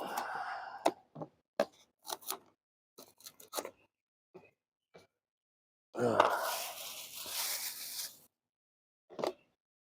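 A green onion is cut up in short, crisp bursts of snipping and chopping separated by silences, followed by a longer rustling stretch and one last cut.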